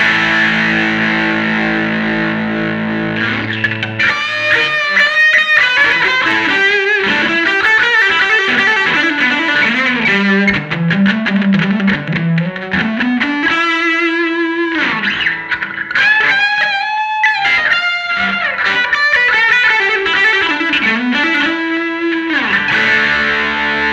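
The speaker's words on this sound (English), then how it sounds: "I'm going to kick the Tim back in and give it a little bit more distortion on top of it" An Epiphone Zephyr electric guitar played through a Tim overdrive pedal on top of tube amp breakup, giving loud, sustained distorted chords and melodic bends that ring on steadily with no talking.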